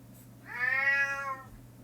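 A single drawn-out cat meow rises and fades in the middle of a quiet room, close and clear.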